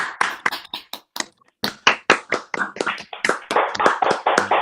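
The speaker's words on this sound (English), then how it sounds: "If everyone wants to turn their mutes off for a second, we could do a live clap" Participants in an online meeting clapping live over their separate microphones, sharp uneven claps in sparse irregular bursts with brief gaps and dropouts, each hand close-miked and clipped rather than blending into a crowd.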